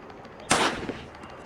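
A single sharp gunshot bursts out in a mobile video game, loud and abrupt against a quiet background, with a brief tail afterward.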